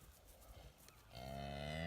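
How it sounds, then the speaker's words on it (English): Cows mooing outdoors by an open gate along the Appalachian Trail near McAfee Knob: faint rustling and ambient noise, then one loud, sustained, droning moo rising near the end, with no talk. "Yes, we're videoing cows."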